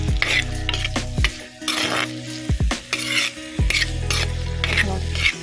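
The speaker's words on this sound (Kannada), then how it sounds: "ಇದನ್ನು ಚೆನ್ನಾಗಿ ಇವಾಗ ಫ್ರೈ ಮಾಡ್ಕೊಳ್ಳುವ." Masala with tomato and onion is fried for a Mangalorean bereke fish curry, with a steady sizzle under repeated metal spoon scrapes and clinks against the pan, close and rhythmic.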